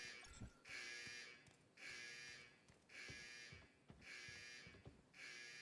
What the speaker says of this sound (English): my alarms are going off